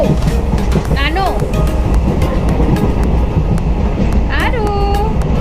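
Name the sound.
Varanasi–Bhatni Express train running on rails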